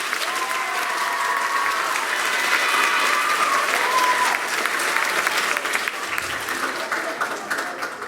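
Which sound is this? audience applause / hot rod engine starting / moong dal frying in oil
audience applause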